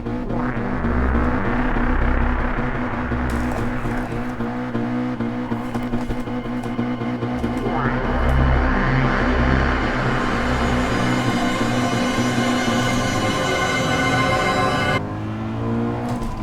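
A car in the Gran Turismo VR racing game spins a donut, its engine revving hard and steadily with pitch shifts and tyre noise, loud and continuous for the whole stretch, with no one talking.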